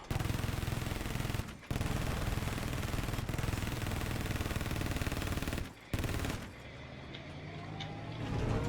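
A mobile anti-air gun fires in Battlefield 4 in long, dense sustained bursts of rapid cannon fire, broken by two short pauses before a quieter stretch with engine rumble and distant battle noise.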